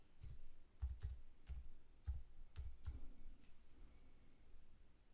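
Taps on a tablet or phone touchscreen while entering text in an annotation app: a short run of light, irregular clicks, close and fairly quiet, with no talking.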